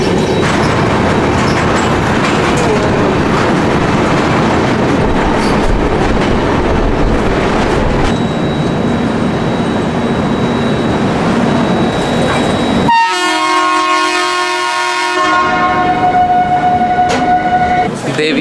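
The Howrah to Delhi Duronto Express runs on the rails with a loud, steady rumble and rattle of the carriages, which drops after about thirteen seconds to a quieter hum with sustained tonal sounds.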